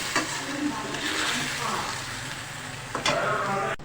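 Chicken with chilli, cumin, ground coriander and salt being stirred in a hot pan, a steady close sizzle with scraping strokes that swell briefly near the end, under faint background talk.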